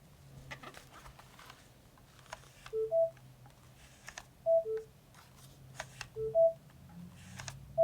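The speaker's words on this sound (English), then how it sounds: "with those tones, as far as the battery indicator, powering on or off" Short electronic beeps in pairs from a Roccat Syn Max Air headset's power-on and battery indicator, a lower tone then a higher one, repeat several times over a quiet background with faint clicks.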